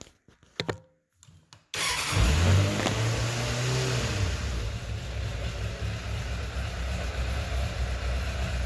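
A Suzuki GSF600 motorcycle engine cranks, catches and starts, then settles into a loud, steady, rumbling idle close by, after a few quiet handling clicks.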